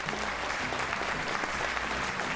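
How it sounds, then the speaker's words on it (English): Steady applause from a school audience at an investiture and awards ceremony, as house captains come up to the stage to receive a trophy; dense, even clapping fills the hall without pause. "A round of applause, please."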